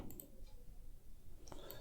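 A few faint computer mouse clicks, a quick pair at the start and another near the end, sit against a quiet room background.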